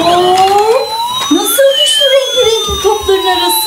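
A toy police car's electronic siren plays a rising and falling wail with a steady high tone above it, loud and close, continuous throughout the clip alongside a child-oriented play setting.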